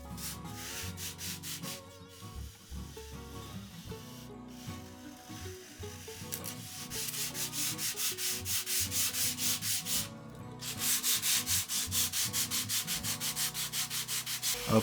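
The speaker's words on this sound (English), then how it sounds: "Then we sand it, but we also consider that we still want a gentle incline of the road that goes up to the tracks" Sanding the road surface of a model railroad grade crossing, a close scratchy rubbing that comes and goes, turning into a steady run of quick back-and-forth strokes in the second half, with no talk.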